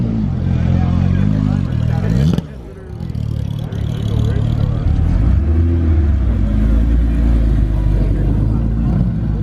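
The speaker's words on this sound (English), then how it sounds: "it's actually a legitimate Porsche race car that he put plates on and is driving on the streets" A street-plated Porsche 997 RSR race car revs loudly and close in Southern California traffic, its engine roaring almost without pause. The note dips briefly, then returns to a sustained, heavy rumble.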